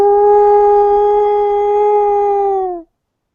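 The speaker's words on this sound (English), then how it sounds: "Lead us off with a good howl" A dog called Captain Timberwolf gives one steady, loud, close howl that holds a single pitch for nearly three seconds and then slides down and stops.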